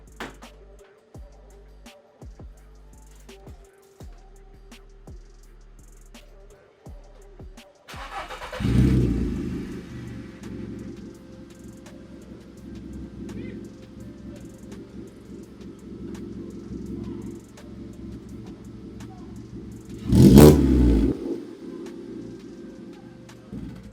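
After some quiet clicks, a Volkswagen Polo Vivo engine cranks and catches, then settles into a steady running hum with a brief louder burst near the end.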